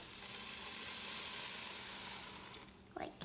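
Crisp puffed rice cereal pours and rustles into a pot as it is folded in, a steady bright crackling hiss that thins out near the end, with a few clearer clinks and scrapes.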